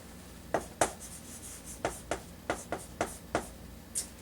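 Marker or chalk writing on a classroom board during an English lesson, a quiet series of about a dozen short tapping and scratching strokes in an irregular rhythm, no voices.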